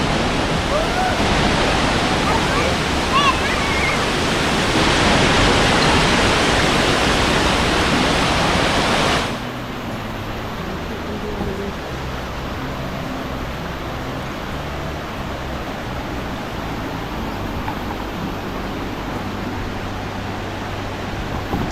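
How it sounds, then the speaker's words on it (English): Flood water rushes down Khlong Lan waterfall, a loud broadband roar that drops to a steadier, lower rush partway through, with faint voices underneath. "And all that water's going downhill."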